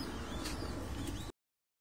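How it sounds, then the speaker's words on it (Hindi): A prized Teddy pigeon coos on a rooftop loft in Sukkur during a pigeon-keeping show, a steady close murmur for just over a second before the sound cuts to silence. "ये बहुत ही शानदार कबूतर है"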